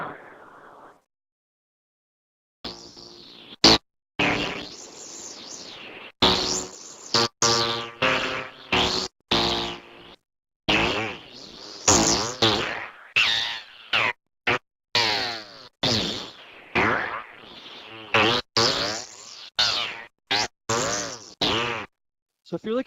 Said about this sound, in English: we call them in Psytrance music Psy farts, then yeah, it doesn't get much more farty than what we did right here